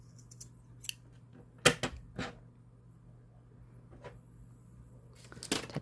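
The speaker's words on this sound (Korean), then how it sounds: "이 안쪽 솜을 1cm 가량 잘라줍니다." Scissors snip cotton stuffing inside a giant yarn tube: several sharp, close cuts spaced irregularly over a quiet background, with a cluster of snips near the end.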